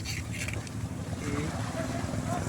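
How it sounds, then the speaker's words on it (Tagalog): An island-hopping boat's motor drones steadily amid wind and splashing water at Puerto Galera, with faint voices in the background. "Ayan po yung aming bangka."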